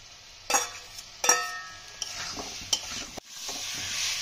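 Potatoes stirred into a spice masala in a pan for pea kachori potato dum, a low sizzle broken by several sharp spoon scrapes and knocks against the metal, close up, with no voices.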